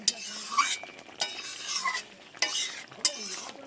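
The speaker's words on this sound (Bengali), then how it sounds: "বেশ সুন্দর করে ফুটিয়ে নিয়েছি, একটু নেড়ে চেড়ে নেব" Potol and shrimp curry is stirred in a pan, with four or five distinct scraping strokes of a spoon against the metal over a light bubbling sizzle.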